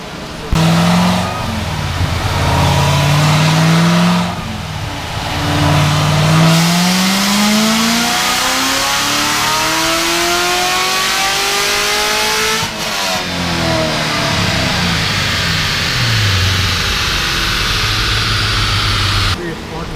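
A Chevrolet C7 Z06 Corvette with bolt-on upgrades and methanol injection on a dyno, its engine roaring loudly through repeated rising revs and gear pulls that sweep upward, drop off, and build again for the whole run.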